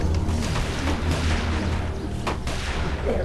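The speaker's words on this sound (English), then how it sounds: "Gunfire." Gunfire in The Walking Dead video game, heavy booming shots over a dense, rumbling background, loud and close, with a couple of sharper reports standing out near the end.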